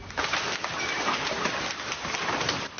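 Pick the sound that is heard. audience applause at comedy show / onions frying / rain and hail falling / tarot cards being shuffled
rain and hail falling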